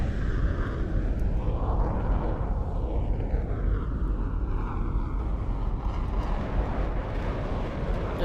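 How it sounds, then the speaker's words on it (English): An F-15 jet in the game Aeronautica flying past, a loud roaring whoosh with a swelling and falling engine tone over heavy wind rumble, sustained throughout. "There goes the F-15."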